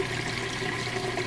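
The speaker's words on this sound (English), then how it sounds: "You can hear the drain running, sucking all that water out of there." A Whirlpool washing machine drains its rinse water, giving a steady, even rushing and gurgling of water pumped out, heard alone.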